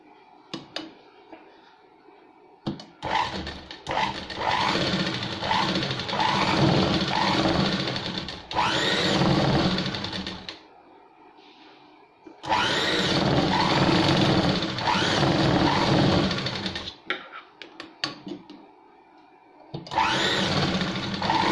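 A sewing machine stitching around the curved edge of a baby bonnet cap, running in long steady bursts of rapid whirring with short pauses between runs, loud and close.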